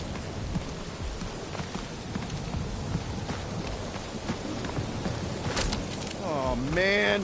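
Steady, dense rainfall in the video game Guardians of the Galaxy hisses throughout, with a few sharp clicks and a warbling, rising-and-falling creature call at the end.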